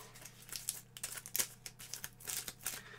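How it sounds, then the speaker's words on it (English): A deck of Star Wars board game cards gets a quick shuffle, with papery riffles and crinkly flicks coming in short irregular bursts, close and fairly quiet, with no voices. "we're just going to give them a quick shuffle"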